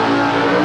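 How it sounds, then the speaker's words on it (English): A Monaro drag racing car at Willowbank, attempting to run on nitro, screams under hard acceleration in a loud, steady, sustained engine roar lasting under a second. "Let's see if he's got the horsepower to pull this screaming Monaro away"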